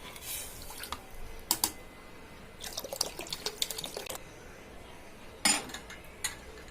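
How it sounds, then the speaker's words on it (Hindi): Water splashes into a metal pressure cooker in short bursts, with clinks and drips of cookware, fairly quiet and close. "पानी थोड़ा और डालूंगी।"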